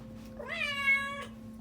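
A female cat in heat gives one drawn-out, rising and then steady meow, close and clear over a quiet low room hum.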